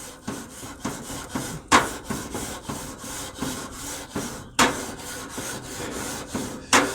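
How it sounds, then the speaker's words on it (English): Rhythmic scraping of a brush scrubbing a hot grill grate, loud close-up strokes repeating roughly twice per second with occasional sharper metallic scrapes, no voices. "I'm going to give it a scrub while it's hot."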